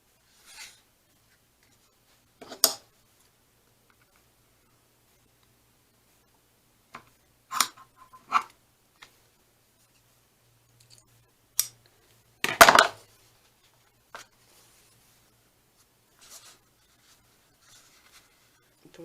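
Paper being trimmed to length with scissors for a junk journal, a handful of short, separate snips and rustles scattered across a quiet background.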